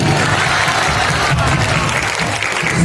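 A crowd claps loudly and continuously at a golden jubilee felicitation ceremony, a dense, steady wash of applause that fills the hall without a break.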